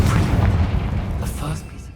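An explosive spell blast in Hogwarts Legacy lands as a loud, close, low boom at the start, then fades into rumbling debris and scattered cracks, with a voice speaking over it.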